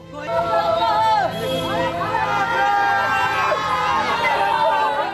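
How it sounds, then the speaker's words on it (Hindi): Crowd anguish in the aftermath of mob violence in Chhapra, Bihar: many voices scream, wail and sob together in loud, overlapping cries that rise and fall without pause. "हर तरफ चीख पुकार मची है। कोई फूट फूट कर रो रहा है"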